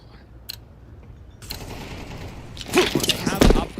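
Pistol gunfire in Counter-Strike 2, starting with faint isolated shots over a low background and then a loud cluster of rapid shots near the end, with a voice talking over it.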